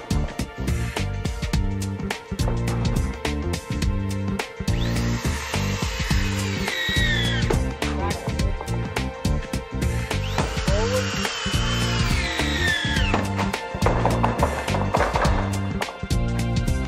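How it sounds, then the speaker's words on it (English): Over about seventeen seconds, a power screwdriver repeatedly drives screws to tack new metal roof sheeting into place during a roof replacement, giving dense, loud bursts of whirring and grinding, with brief whining rises in between. "Now the new sheeting is tack screwed into position."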